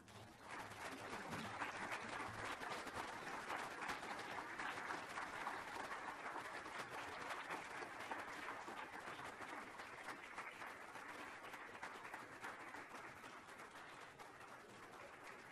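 Sustained audience applause fills a plenary keynote session hall, a dense, steady wash of clapping from a large crowd that holds at an even level for the full stretch with no speech over it.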